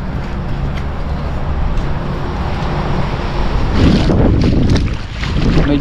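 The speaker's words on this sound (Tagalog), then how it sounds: "Medyo malakas din ang hangin ngayon guys." Strong wind buffets the microphone in a steady low roar on a boat, growing rougher and louder in gusts near the end, with water and boat noise underneath.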